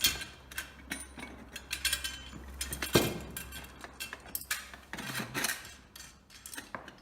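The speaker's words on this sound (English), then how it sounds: "you tighten it with the ratchet and it's nice and tight" Ratchet tightening bolts and nuts while assembling a jet ski dock, a run of close metallic clicks and clinks in uneven bursts with scattered knocks.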